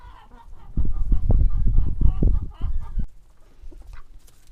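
Backyard hens cluck in a quick, close run of repeated calls, followed by a few softer, scattered clucks and chirps as the flock quiets.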